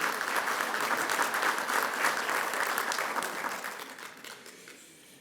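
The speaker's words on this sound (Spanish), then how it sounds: "Aplausos para él." An audience claps at a bar association induction ceremony in Lima, a full, even round of applause that holds steady, then thins and fades away over the final seconds.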